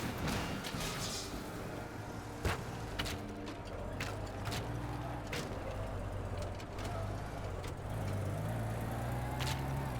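Green car in the video game Teardown drives with a steady, low engine drone and rumble throughout, broken by occasional sharp clanks and knocks, loud and close.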